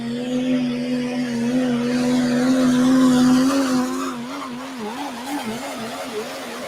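A 360-class diesel truck engine at an outdoor tractor pull in Edgerton, Wisconsin, droning loud and steady with a strong tonal whine that climbs in pitch, then wavers up and down as it hits the governor.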